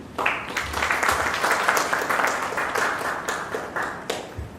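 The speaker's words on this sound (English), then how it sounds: "Please give a big round of applause to Ms. Shani Etzioni." An audience at a business plan competition boot camp in Chandigarh applauds a guest speaker, a lively burst of many hands that swells and holds steady before easing off.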